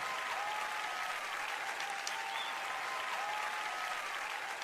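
Audience at a sermon breaks into steady applause, dense even clapping from many hands, moderately distant and continuous without talk over it.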